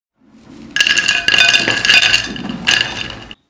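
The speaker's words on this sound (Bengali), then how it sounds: "শব্দ শুনে নিশ্চয়ই বুঝতে পেরেছেন এটা কতটা ক্রিস্পি হয়েছে" Crispy fried egg snack pieces crunch up close in several sharp, bright bursts with brittle clinking texture, all within about three seconds and no talking.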